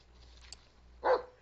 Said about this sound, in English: This is gonna be a good doggy, Mr. Green.